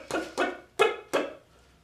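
Four short, sharp putt notes from a turkey diaphragm mouth call, each a clipped, abrupt burst spaced roughly a third of a second apart, close and fairly loud, with nothing else behind them.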